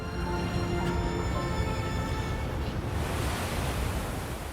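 Incoming tidal waves surging up a river channel, a continuous loud roar of rushing, breaking water with no pauses, close and filling the whole stretch.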